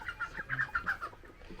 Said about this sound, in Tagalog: O yan, mga manok din namin yan lahat guys.